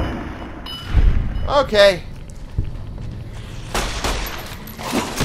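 Bursts of gunfire from the video game Fallout: New Vegas ring out in quick succession, followed by sharper shots later, while a voice speaks briefly over the action.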